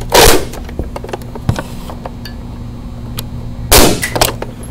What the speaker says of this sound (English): this first shot is going to be with a stock dart and a blaster with the air restrictor removed and our level 1 kit